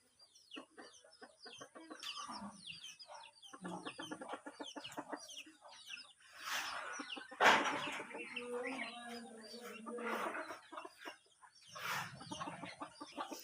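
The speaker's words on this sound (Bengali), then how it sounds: "ওদেরই এই মুরগিগুলো" Chickens kept at a village house cluck steadily and close by, with occasional louder squawks and a rooster-like call in the middle, all under a faint hiss.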